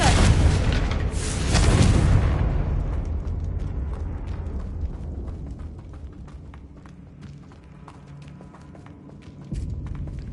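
A Confringo blasting spell in Hogwarts Legacy sets off a loud booming explosion that rumbles for about two seconds, then a quieter crackling decay with scattered small pops and a second low thump near the end.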